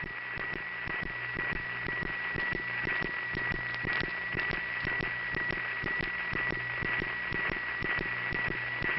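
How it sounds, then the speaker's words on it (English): A steady buzzing hum from a central office power supply comes through a 1970s telephone line, with faint irregular clicks scattered through it and a constant narrow-band, line-limited tone and no voices. "let you hear the power supply noise of the"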